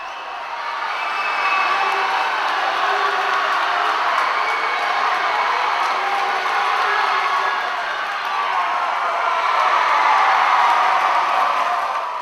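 A loud, dense crowd cheers and shouts steadily at a college swimming meet in an indoor natatorium, a sustained roar that swells slightly toward the end.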